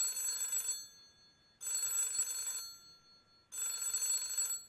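A telephone rings three times in even bursts, each ring a bright electronic trill lasting under a second with short silent gaps between, clear and close with no voices.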